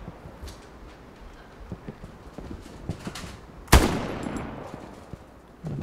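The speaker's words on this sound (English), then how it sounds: "Now they're shooting at me." Bursts of gunfire from Hell Let Loose gameplay: scattered distant shots, then one loud sharp crack with a decaying tail, surrounded by irregular smaller pops.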